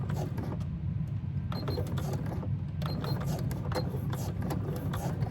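A sewing machine top stitches a handbag at a 4.0 stitch length, giving a steady close mechanical whir with light rhythmic clicking that runs unbroken through the whole stretch.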